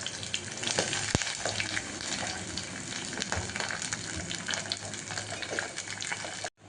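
Spices tempering in hot oil for a Gujarati potato sabji, a steady close sizzle and crackle running throughout with no talk, cutting off abruptly at the end.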